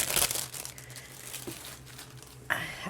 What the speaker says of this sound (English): I haven't even opened this pack of cards